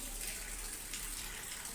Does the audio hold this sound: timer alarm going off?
no